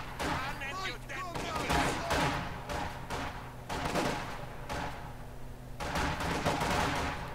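Heavy machine gun fire in the World War II strategy game Company of Heroes 2, with repeated bursts of rapid shots and booming impacts mixed with battlefield noise, while soldier voices shout over it.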